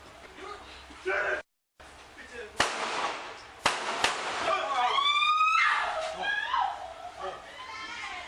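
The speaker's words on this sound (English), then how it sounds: "Shots fired! Shots fired!" During a police encounter captured on a bodycam, several sharp, loud gunshots crack in quick succession amid shouting voices, with an abrupt silent gap and a wailing tone following.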